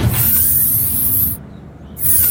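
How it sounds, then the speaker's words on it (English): A smooth mechanical whoosh with a hissing, pneumatic quality, briefly dropping quieter before swelling again, like a sliding futuristic door. "suddenly the starship door opens."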